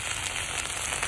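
Ginger and cumin paste goes into hot oil and sizzles, a dense, steady hiss with fine crackling, heard briefly and alone.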